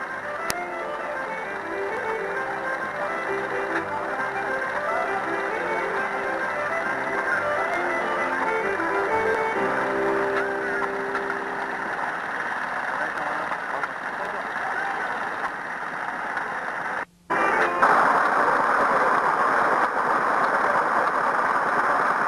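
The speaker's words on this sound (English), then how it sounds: "The engine running here is a Ruston Hornsby stationary engine" A Ruston Hornsby stationary engine runs at a steady, continuous idle throughout at a 1990 outdoor festival in Feenagh, with a brief dropout near the end before the same engine drone resumes.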